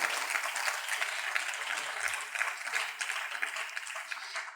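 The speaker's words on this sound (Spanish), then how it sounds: "Dale un aplauso al Señor" Steady applause from a church congregation during a Spanish-language worship service, a dense wash of clapping that holds without a break from start to finish.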